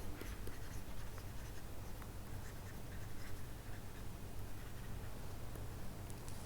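An equation being written by hand for a lesson on the time response of an overdamped system, soft continuous scratching of pen strokes with small tapping ticks, quiet and close.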